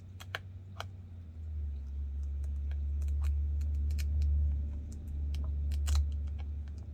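Small sharp snips and clicks of scissors cutting paper, irregular and close, over a steady low electrical hum.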